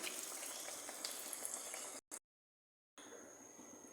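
Parippu vada, flattened lentil fritters, sit in hot oil with a soft, even sizzling hiss, faint and steady apart from a short silent break.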